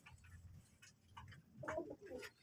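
Domestic pigeons, including Jalali and grizzle birds, cooing at a Bangladeshi deshi pigeon farm, soft low coos and calls rising and falling over a couple of seconds, fairly faint with background noise.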